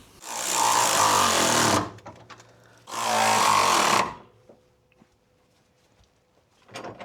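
Power tool snugging down subframe bolts on a Mustang K-member with spacers: two loud sustained buzzing bursts of about two seconds each, then quiet clicks and light handling noises.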